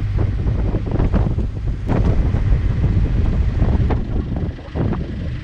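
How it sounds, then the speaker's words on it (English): Strong wind buffets the microphone by a waterway bridge, producing a loud, continuous low rumble with gusty surges throughout, and no talk. "the wind is picking up as well"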